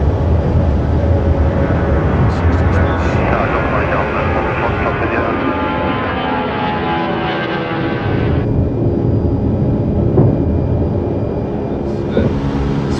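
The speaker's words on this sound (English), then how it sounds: "As we lift off at around 160 miles an hour, the aeroplane moves into the environment it was built for." Airliner climbing away at full takeoff thrust just after lift-off at about 160 mph, wheels retracting, heard from inside the cabin as a loud, steady broadband engine roar that holds for the whole stretch.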